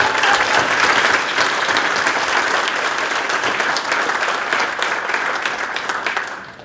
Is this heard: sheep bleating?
no